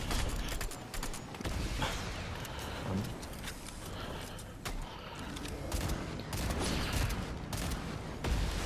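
Video game gunfire in a PS4-style shooter, heard as dense scattered shots and bursts throughout, some close and sharp, others further off, over a constant background of game noise.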